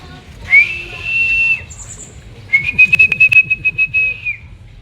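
Racing pigeons arrive and fly in during a one-lap race in Agdangan, Quezon, with sustained high whistles and chirps over a low murmur, near and moderately loud.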